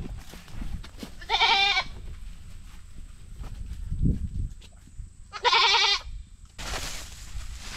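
A goat bleats twice in loud, wavering calls a few seconds apart, close by, with soft shuffling and outdoor rustle between the cries.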